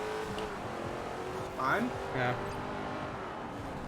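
A car engine in Forza Horizon 4 drones steadily and rises in a short rev, mixed under brief conversational voices.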